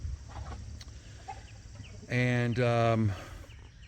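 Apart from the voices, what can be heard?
Zombie rooster clucking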